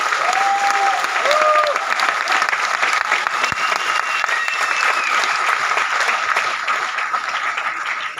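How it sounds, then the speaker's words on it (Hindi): An audience applauds loudly and continuously after a talk, a dense, even roar of clapping that fades slightly at the end, with faint whistles or cheers mixed in. "एक बार मोहित सर के लिए जबरदस्त तालियां।"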